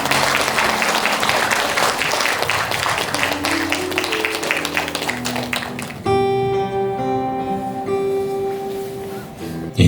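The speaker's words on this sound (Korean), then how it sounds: "여러분의 따뜻한 박수로 채아님을 무대 위로 모셔보겠습니다" Audience applause greeting a speaker taking the stage at a lecture concert in Incheon, dense clapping with music beneath it that gives way to a piano passage as the clapping stops.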